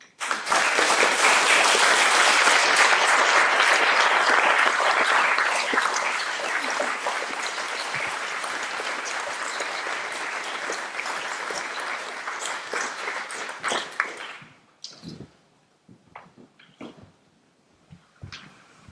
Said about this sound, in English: here today with Adrian and my daughter Emma, so please can you give them a clap?